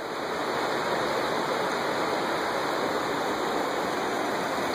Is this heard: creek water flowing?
yes